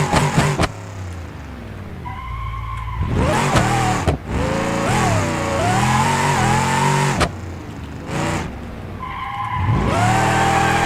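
A game car drifting with NOS boost, engine revving high and rising in pitch through long slides, with loud tire squeal bursts between acceleration runs.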